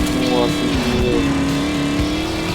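A tuned-up car engine in the off-road driving game Off The Road revs hard and steadily, its rising and falling pitch sweeping up and down while someone talks excitedly over it throughout.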